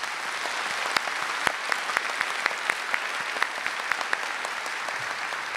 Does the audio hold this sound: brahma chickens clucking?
no